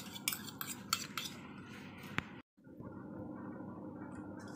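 A spoon scraping sweet prasad out of a pot into a bowl, a run of rhythmic metallic scrapes and clinks, one sharp clink, then a brief pause before a softer continuous scraping resumes, no talking.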